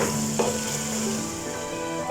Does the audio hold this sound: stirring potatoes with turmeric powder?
yes